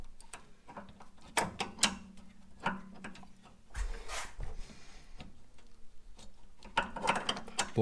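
Ratcheting clicks and metallic ticks from a claw wrench tightening a fitting in the steering of a Citroën C4, in a cramped space under the car. Irregular bursts of clicks come close up, with short pauses and no talking.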